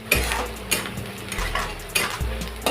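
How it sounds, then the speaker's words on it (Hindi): Onions frying in a pan over medium-high gas flame until reddish, with a spoon stirring and scraping the pan in several distinct strokes over a soft background sizzle. "तो अब हम प्याज को लाल होने तक भून लेंगे।"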